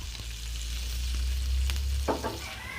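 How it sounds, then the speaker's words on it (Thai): Red curry paste is stir-fried in a pan for khanom jeen nam ya, giving a continuous close sizzle with a brief burst of scraping stir strokes near the end. "ผัดให้มีกลิ่นหอมนะคะ"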